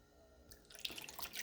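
Distilled water poured into a separate container for soap making, starting as a faint trickle and swelling into a brief close splashing pour.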